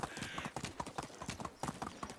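Horse hooves gallop at full speed in the medieval survival game Medieval Dynasty, a steady rapid clip-clop rhythm heard up close and fairly quiet, running continuously throughout.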